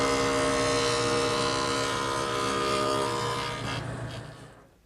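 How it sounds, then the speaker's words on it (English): A jointer planes the top edge of a wooden headboard with a loud, steady motor whine and layered hum, which winds down and fades out at the end. "The joiner does a great job."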